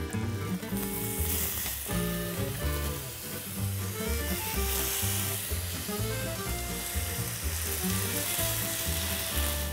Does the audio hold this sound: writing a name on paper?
no